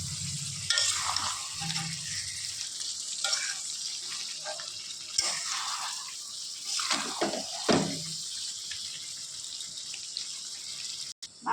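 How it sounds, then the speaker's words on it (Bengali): Chicken curry sizzles in a pan while it is stirred and fried down as its juices release. Close scraping stirs and soft bubbling run over continuous frying hiss, with a brief clank near the end. "একটু ভালোভাবে নেড়ে দেবো।"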